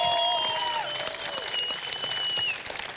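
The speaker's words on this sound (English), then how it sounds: "I think you should give him a round of applause." A crowd at a League of Legends esports match applauds with dense, sustained clapping throughout, while faint tonal sounds drift over the top.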